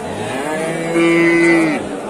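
A cow with a calf moos once at a Dushanbe livestock market, a loud, close, sustained low call lasting about a second over steady crowd background.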